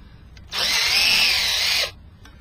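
A power drill widening a hole whirs in one steady burst of a little over a second, close by, with quiet before and after.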